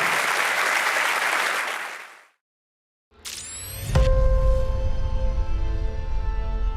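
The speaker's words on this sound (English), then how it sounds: "let's just give a big round of applause to Jenson Button" London audience applauding Jenson Button at the Lotus Eletre unveiling, a loud burst of clapping that cuts off abruptly, followed after a short silence by a swelling electronic musical sting and low rumble.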